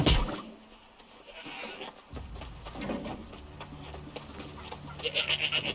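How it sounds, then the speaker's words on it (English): Goats bleating in the video game New World, several wavering calls over a soft hum and faint clicking, growing louder and more rapid toward the end, with someone speaking quietly at times. "These aren't sheep, these are goats, but okay."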